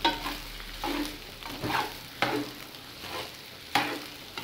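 Sausages frying in a pan for a homemade Mexican discada of beef and pork, with a soft steady sizzle broken by several sharp scraping stirs and clinks of the utensil against the pan, close by with no talking.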